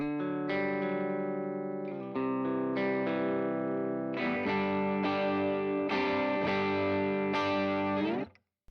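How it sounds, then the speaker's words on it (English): An electric guitar rings out through a small Vox MV50 tube micro amp, playing sustained, slightly distorted chords that change every second or so, then cuts off abruptly at the end. "Look at this little Vox MV50."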